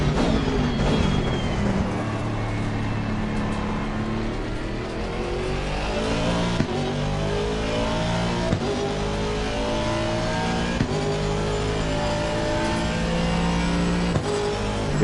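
Race car engines in a video game at Donington Park: loud, close engine notes climbing and falling through repeated gear changes, with other cars nearby, lasting throughout.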